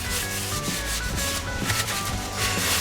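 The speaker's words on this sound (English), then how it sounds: "It's just literally a matter of rubbing everything down, ready for painting." Repeated hand rubbing and sanding strokes on Polo GTI brake parts, prepping them for paint, close and steady with a rough scratchy texture and no talking.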